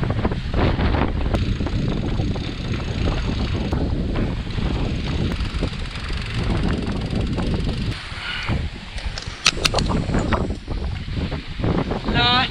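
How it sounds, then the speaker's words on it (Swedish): Strong wind buffets the microphone aboard a sailboat under sail at around 16 knots of wind, a loud, continuous gusty rush over water with brief fluttering bursts and some faint voices underneath. "Vind."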